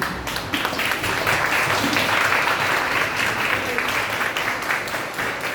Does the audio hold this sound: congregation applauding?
yes